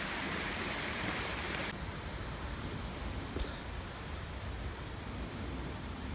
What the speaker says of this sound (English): Not the airplane, the roaring waterfall.